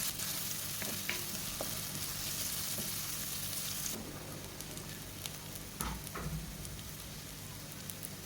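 Chopped onion fries in coconut oil and ghee, a steady close crackling sizzle like rain on a surface, loud at first and then slightly softer after being stirred, with occasional scrapes.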